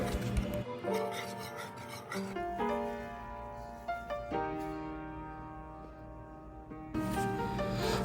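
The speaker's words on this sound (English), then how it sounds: "you now want to whisk everything evenly throughout the sauce" A whisk scrapes and rasps through a Parmesan and cream cheese sauce in a pot. The strokes are close and continuous with rhythmic rubbing pulses, and music plays underneath.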